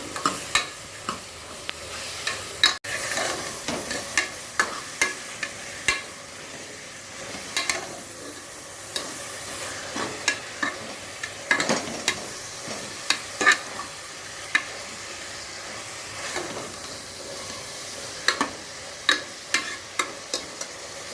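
Steady sizzling of garlic frying in a pan, punctuated by regular scraping clicks of a spoon stirring, with no voices.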